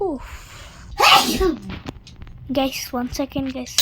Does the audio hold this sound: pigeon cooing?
no